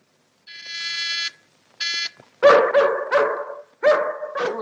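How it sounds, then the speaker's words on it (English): A dog barks loudly and close by in a 1944 Sherlock Holmes mystery film, several harsh barks following a couple of tonal buzzing tones at the start. "Don't like the sound of that dog."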